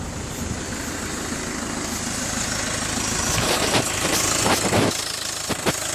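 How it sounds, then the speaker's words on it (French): A Peugeot 206 2.0 HDi diesel engine idles steadily and alone, a close, even clattering hum with a few brief knocks and clicks near the end. "Voilà, le moteur il a démarré."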